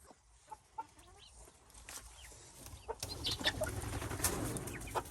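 Frizzle chickens in an insulated coop, several soft clucks and murmuring calls close by, with a louder rustling and flapping stretch in the second half.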